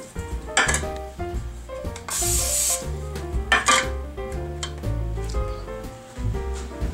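Clanks and scrapes of metal fruitcake pans mix with a short hissing burst of cooking spray, close up in a kitchen, with more clattering afterward.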